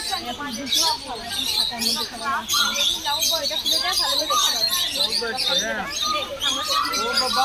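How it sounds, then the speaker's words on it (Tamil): African lovebirds at Mysore Zoo keep up a dense, busy chatter of high chirps and squeaks throughout, with people's voices mixed in underneath. "African love birds."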